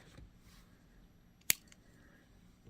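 A single sharp snip of cutters through beading wire for a sun catcher ring, one brief click standing out against a faint, quiet room.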